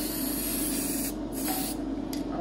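Aerosol spray paint hisses in one continuous close burst as it coats a metal sinker storage box for a catfish boat.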